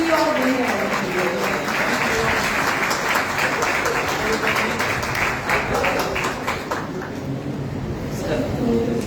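A crowd at a Christian revival meeting in Gujrat applauds steadily, with many hands clapping in a continuous, even wash of sound.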